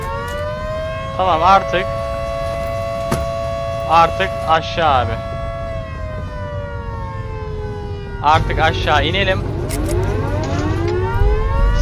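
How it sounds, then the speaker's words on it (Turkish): Sirens wail in the video game Volcanoids, a long rising and falling tone that holds steady and then sweeps, loud and continuous while someone talks over it at intervals. "Sirenler falan çalmaya başladı çünkü."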